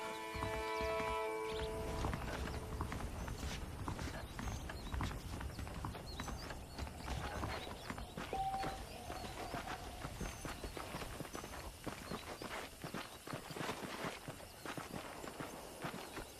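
Saddled horses' hooves clip-clop at an unhurried walk in a steady rhythm, with a brief whinny early on, in the video game Red Dead Redemption.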